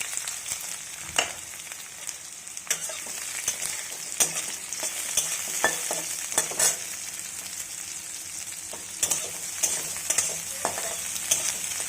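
Dried chili, black cumin, mustard seed, onion and green chili fry in hot oil with a steady close sizzle, broken by crackling pops and spatula stirs, no talk.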